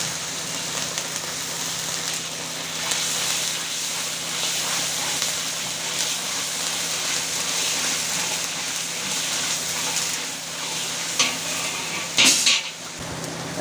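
Chicken shahi korma masala with dried chili powder being sautéed, giving a steady broadband hiss and sizzle throughout with a faint low hum beneath and a couple of brief scraping clatters near the end.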